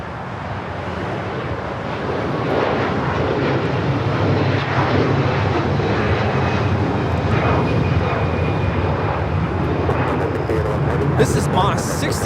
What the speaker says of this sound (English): This is Moss 6811 taking off to Guadalajara on the A330-300 converted freighter.